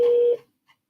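A single steady telephone tone sounds for about a third of a second and fades quickly, followed by a faint short blip, as a call is placed to a law firm.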